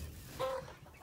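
Chickens on a backyard flock make a brief, fairly close cluck with a short chirp from the chicks, over low background rumble.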